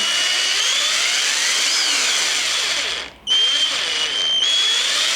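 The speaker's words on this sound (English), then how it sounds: "This impact also comes with a 1 speed, but depending on how hard you press down the trigger, you can adjust the speed." A Ryobi impact driver whining steadily at close range at high speed, cutting out briefly before spinning back up, with a loud, continuous motor tone.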